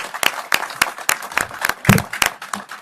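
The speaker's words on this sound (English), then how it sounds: "The applause that you hear right now is, if you can't see them, there are lots of film workers here" Film workers applaud at a British Columbia press announcement on film industry tax incentives: sharp, close claps land in an uneven but steady rhythm over a thinner spread of clapping from the crowd.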